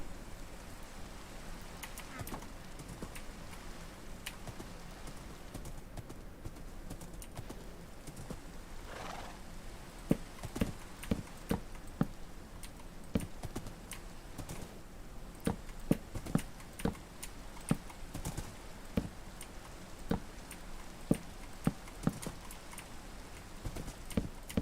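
A horse in a Lord of the Rings video game clip-clops with sharp, uneven hoof strikes that grow busier in the second half, over a steady rain-like hiss, with a brief whinny-like sound partway through.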